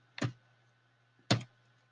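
Two isolated, sharp clicks from a computer keyboard, spaced about a second apart, close and crisp against a quiet background with a faint steady hum.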